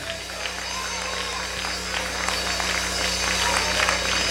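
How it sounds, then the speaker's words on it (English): A church congregation claps in praise, with steady massed clapping over a constant low hum, and crowd voices and cheering mixed in. "Let's give the Lord a hand clap of praise."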